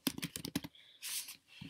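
Computer keyboard typing a line of jQuery code: a quick burst of crisp, close key clicks, a short pause, then a softer rustle and one final click.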